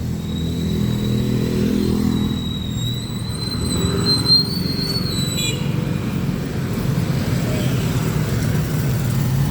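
A car passes on a road, its engine rising and then fading against steady traffic noise. A high whine runs through the first half, and no one speaks.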